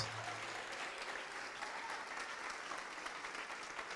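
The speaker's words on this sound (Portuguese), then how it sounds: "E vamos aplaudir ao Senhor Jesus por cada vida que está chegando." A church congregation claps together for several seconds, a steady, dense patter of many hands at moderate distance with no voices on top.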